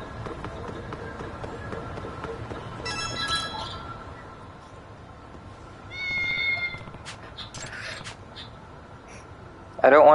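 A cat in the video game Lost Judgment gives a few short meows over a busy in-game background hum, with a louder burst right at the end.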